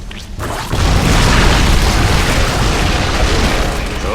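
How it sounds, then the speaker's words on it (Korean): A space station explodes in StarCraft II with a loud, sustained booming blast that surges after a brief lead-in and rumbles on heavily for several seconds, with no talking. "정거장이 곧 폭발한다."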